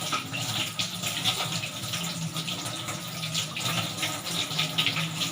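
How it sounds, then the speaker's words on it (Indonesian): Water running steadily from a tap to wash hands before colostomy care, a continuous splashing stream into a sink that stays close and even throughout with no voices. "Kemudian nyalakan keran"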